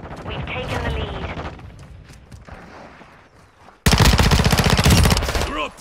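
Rapid automatic gunfire in Call of Duty Modern Warfare 2 multiplayer, with muffled shots and talk in the first half, then a sudden loud, dense burst of close firing that lasts to the end.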